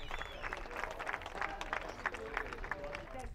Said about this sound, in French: Sous les hurrahs de la foule